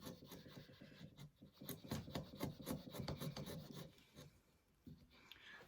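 A hand router cutter is twisted into wood to shave the base of a halving joint flat, giving a rapid series of rasping scrapes, close and quiet, that pauses briefly near the end.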